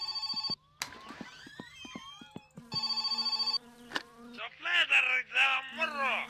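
A telephone rings inside the My Summer Car video game, coming as two short bursts of layered electronic tones separated by gaps, mixed with chirping, buzzing game sounds.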